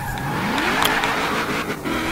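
A modified 1995 car in Forza Motorsport 4 revs hard, its engine note climbing and rising in pitch, with a brief tire squeal mixed into the steady, close-up motor roar.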